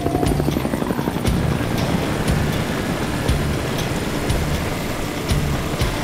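A helicopter thrums loudly and steadily nearby in the Australian outback, its rotor beating in a continuous rapid chop with no voices.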